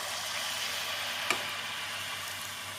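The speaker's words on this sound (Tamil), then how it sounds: "கடாயில் எண்ணெய் நன்றாக காயவும் நாம் ஊற்றி விடலாம்" Rice flour appam batter frying in hot oil in a kadai, a steady broad sizzle throughout with a brief louder crackle partway through, fairly quiet and close with no talking.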